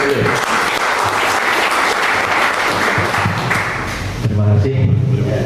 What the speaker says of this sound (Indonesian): Kita beri aplaus buat beliau.